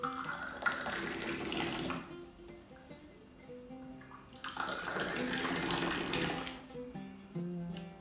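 Tea is poured from a pot into a cup at a carnival tea pouring challenge: two long, splashing streams of liquid rise and fall, with faint voices or music in the background.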